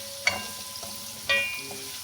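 Masala fries in a pan with a soft, faint sizzle, broken by two sharper clinks of a spoon against the metal.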